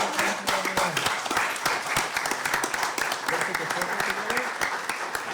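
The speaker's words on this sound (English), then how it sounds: "Please give a round of applause." A crowd claps steadily for several seconds, many hands at once, lively and sustained with a few voices mixed in.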